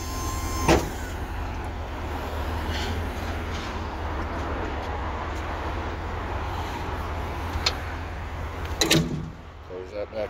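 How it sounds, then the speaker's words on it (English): A truck lift gate rises on a hydraulic motor with a steady whirring hum lasting several seconds, punctuated by a few clicks and clunks near the end. "Let me go ahead and raise this lift gate back up, and you'll see it slide right by."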